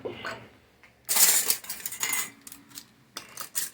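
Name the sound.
putting lids and bands on sauerkraut canning jars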